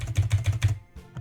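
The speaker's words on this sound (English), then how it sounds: "If you don't know what a mechanical keyboard is, they're the ones that sound like this." Fast clacky keystrokes on a mechanical keyboard, about five crisp evenly spaced taps in quick rhythm followed by a couple of softer presses, close and loud with no voices.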